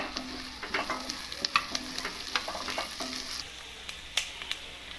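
Ginger garlic frying with golden onions for paneer butter masala, a steady sizzle under repeated sharp spoon scrapes and stirring knocks against the pan, close and fairly loud, with no voices.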